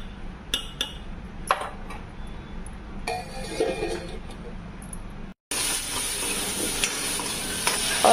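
Stuffed okra sizzles and fries in a pan while a spoon stirs and clinks against the metal, first in scattered scrapes, then a steady loud hiss after a brief cut.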